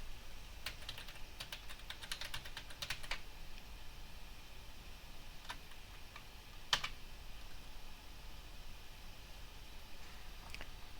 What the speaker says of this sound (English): if you created a passphrase for your key, you have to type it now here